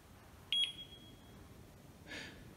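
A faulty treadmill console gives one short, clear electronic beep, followed a moment later by a brief soft rustle in an otherwise quiet room.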